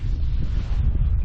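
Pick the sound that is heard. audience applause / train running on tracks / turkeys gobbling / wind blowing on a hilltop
wind blowing on a hilltop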